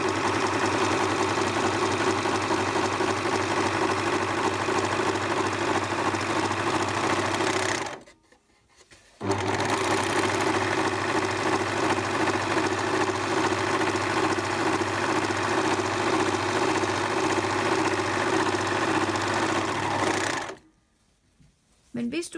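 A Husqvarna Viking / Pfaff air overlock machine running unthreaded through fabric: a loud, fast, steady mechanical stitching hum, close up, stopping briefly twice before restarting.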